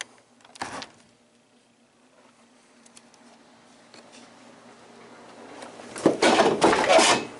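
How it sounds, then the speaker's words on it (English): A door holder is knocked over inside a wooden shed at night: a brief knock early on, faint rustling, then a louder clattering, scraping tumble near the end, fairly close. "Accidentally knocked my door holder down there."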